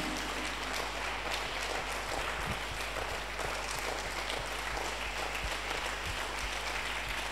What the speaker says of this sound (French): Acclame le Seigneur. Acclame Jésus